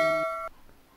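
A short synthetic notification chime rings in a subscribe reminder: two bright stacked bell tones sounding together, cutting off after half a second into near silence.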